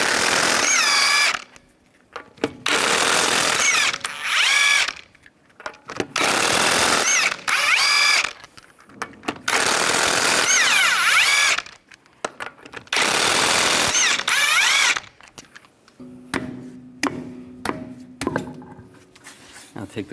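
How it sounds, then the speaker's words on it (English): Bursts of a power tool with a 19mm socket whirring and rattling as it removes lug nuts from a Ford Explorer wheel, loud and close, repeating in several separate runs with short pauses between them. "use a 19mm socket, take the lug nuts off"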